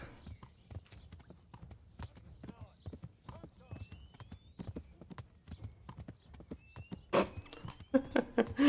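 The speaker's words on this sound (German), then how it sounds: "So, und jetzt reiten wir einfach so davon." Horse hooves clip-clop steadily as a rider gallops away in Kingdom Come: Deliverance, a rapid rhythmic patter that persists under someone talking, with a few louder thuds near the end.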